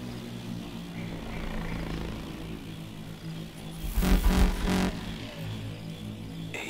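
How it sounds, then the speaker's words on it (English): Helicopter in the video game Call of Duty Advanced Warfare, a steady rotor drone throughout that swells loudest for about a second near the end as the aircraft pulls away, with no talking. "Chopper's moving off."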